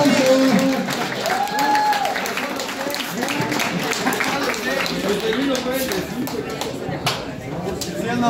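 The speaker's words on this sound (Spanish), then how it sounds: "Fuerte el aplauso para estos guerreros" Crowd applause rings out for boxers after a round in an outdoor street boxing match in Puebla, Mexico, steady clapping over the full stretch with an announcer's voice and shouts mixed in.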